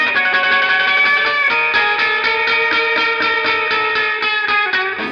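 Raw, heavy distorted electric guitar from an album, sustained chords with a steady rhythmic pulse, loud and continuous throughout with no voices.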